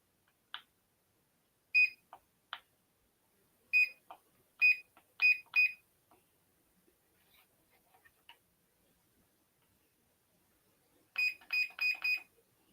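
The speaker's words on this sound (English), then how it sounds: "It's beeping." Short electronic beeps from an electric massager that has stopped massaging and needs charging, some single and some in quick bursts of three or four, close by against an otherwise quiet room.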